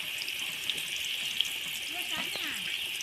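Onions frying in a pan for mushroom biryani hiss steadily in a bright sizzle, with brief scraping and stirring sounds near the end, close and continuous.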